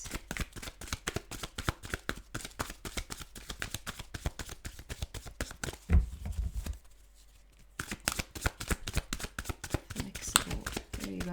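Tarot cards are shuffled by hand for a clarification card, a rapid run of crisp riffling flutters and slaps with a brief pause midway before the quick card shuffling resumes, close and fairly soft.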